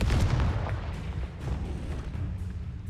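A Confringo explosion spell in the video game Hogwarts Legacy, a heavy booming blast that rolls out and decays over a few seconds, loud and close, with no voice over it.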